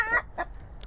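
Chickens on a farm give a short clucking call followed by a couple of softer clucks, close and fairly loud against a quiet outdoor background, with no voices.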